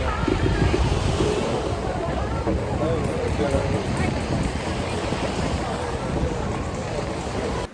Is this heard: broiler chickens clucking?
no